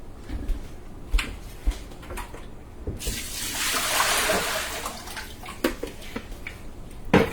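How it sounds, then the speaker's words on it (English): Water poured out of a colander bowl after greens have soaked, a broad splashing rush that swells and fades over a few seconds between scattered kitchen clinks, with no voices. "when I want to drain them out, I just lift it out, dump this water"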